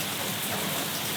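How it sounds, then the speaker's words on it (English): Steady rain falls hard at a fishing camp in the northern tropics, a dense continuous hiss of drops on surfaces with no gaps and no voices. "rain incoming in 2, Rain 1. incoming."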